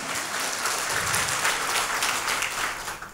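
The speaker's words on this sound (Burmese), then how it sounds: "လက်ခုပ်တီးပြီးဘုရားကိုချီးမွမ်းပါ" A church congregation claps in praise during a sermon, a dense, sustained burst of many hands that carries on evenly for a few seconds and fades slightly at the end.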